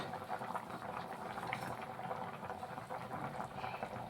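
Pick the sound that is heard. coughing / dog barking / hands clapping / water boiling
water boiling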